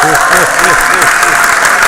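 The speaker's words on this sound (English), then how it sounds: "people will cheer and applaud for me" An audience at a conference closing ceremony cheers and applauds, a loud continuous wash of clapping and crowd noise with voices mixed in throughout.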